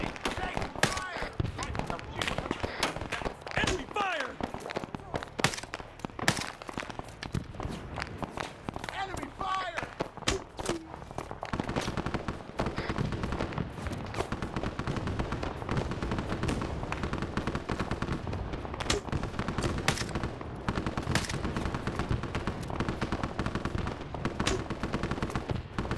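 Enemy gunfire in the SOG Vietnam-era shooter rattles on steadily and nearby as rifle and machine gun bursts, mixed with footsteps and voices shouting over the firefight.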